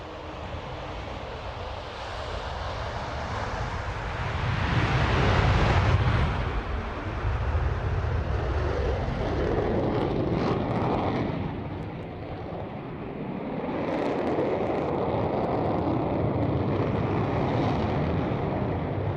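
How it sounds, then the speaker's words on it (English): An Avro Vulcan B2 jet bomber begins its takeoff roll at an airshow, a powerful, rumbling jet roar that swells and surges, with some wind buffeting on the microphone and no talking. "starting its takeoff roll is the Avro Vulcan B2"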